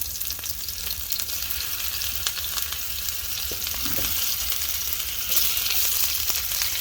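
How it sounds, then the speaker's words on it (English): Garlic and onion fry in hot oil in a pan for nasi goreng, a loud, continuous close sizzle with a few faint utensil scrapes and no talking. "To that, I'm going to add my garlic,"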